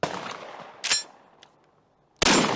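A SPAS-12 shotgun fires low brass shells, a loud close blast decaying into a ringing echo, then a brief metallic clack and a second sharp report starting at the end.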